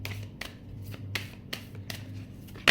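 Tarot cards are shuffled and drawn from a deck in a row of quick, crisp riffles and flicks, close and fairly quiet, with no talk.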